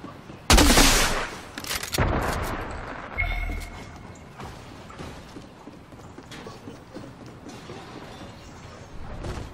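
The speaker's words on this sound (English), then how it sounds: "I hear you shooting, but don't see anyone" Gunfire in the video game Fortnite: a loud burst of rapid shots opens, followed by further scattered shots and clattering effects that fade into quieter game ambience.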